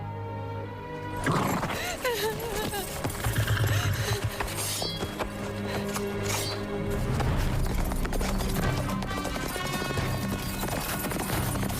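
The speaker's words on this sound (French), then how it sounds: "Le cheval de Fane?" Horse hooves clip-clop steadily on firm ground, mixed with a whinny and rustling movement, fairly close throughout.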